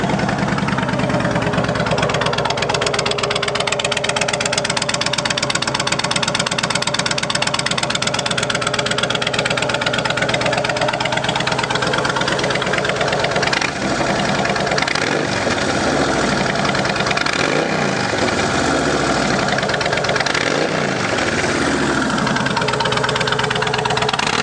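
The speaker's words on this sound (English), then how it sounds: "Love the way these sound with a set of pipes on them." A 2006 Kawasaki Vulcan 1600 Classic motorcycle with aftermarket pipes idles steadily and loudly up close, with a deep, lumpy rumble that stays constant throughout.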